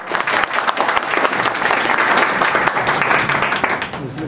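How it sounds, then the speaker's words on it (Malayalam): An audience claps steadily and densely throughout, near and loud, with the applause swelling and continuing without pause for several seconds at a gathering in Kerala. "അങ്ങനെയാണെങ്കിൽ എല്ലാം കൈയടിച്ച് പാടാം."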